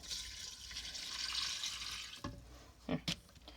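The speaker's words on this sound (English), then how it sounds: "So this is the water, just plain tap water." Plain tap water pours steadily into a container for about two seconds, a soft continuous hiss, then stops, leaving a few faint drips and clinks close by.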